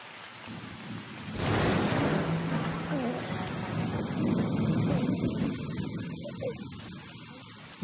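Heavy rain pours steadily as a deep thunder rumble rolls in and lingers, loud and close, with a voice faintly present beneath the storm.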